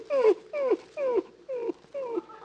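A dog whimpers in five even, drawn-out whines, each one falling in pitch, heard fairly close in a quiet room in an old radio comedy scene.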